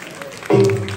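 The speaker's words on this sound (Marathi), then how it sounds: "या वेळी सगळी टाळ्या वाजवा." An audience at a comedy game show claps on cue, starting abruptly halfway through as a sudden loud burst of applause that sustains, preceded by a brief murmur.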